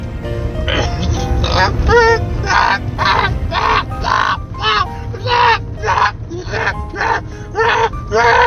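A voice imitates a long-necked goose honking, repeating a series of nasal, warbling calls in a steady rhythm for several seconds.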